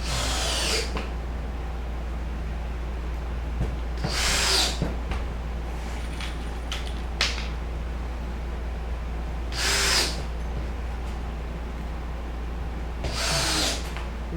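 A power drill drives screws into a pop-up camper being converted into a hard-sided teardrop camper, heard as four separate short whirring bursts spaced several seconds apart over a steady low hum, with no talk.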